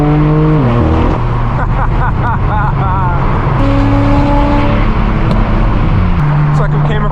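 A straight-piped BMW M4 F82 drives on a road, its loud raw exhaust droning continuously and rising and falling in pitch as the car accelerates through the gears, up close and dominant throughout.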